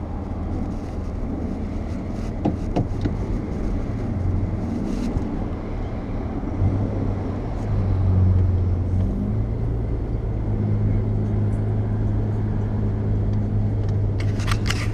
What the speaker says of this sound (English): Man, there's traffic today.